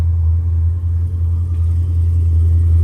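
A supercharged Cadillac CTS-V fitted with a Kong X-port and long tube headers idles with a deep, steady, loud rumble close by, holding an even low drone without any clear rise in revs.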